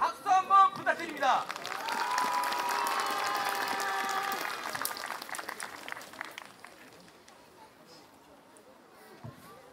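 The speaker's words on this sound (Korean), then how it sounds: "고사를 진행해 주신 우리 임직원 대표님께 박수 한번 부탁드립니다." An audience at a Korean folk village ceremony for the first full moon festival breaks into sustained applause after a short bit of announcer talk, the clapping steady for several seconds before tapering off into quiet murmurs.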